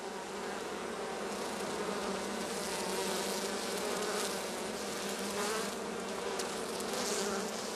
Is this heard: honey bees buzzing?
yes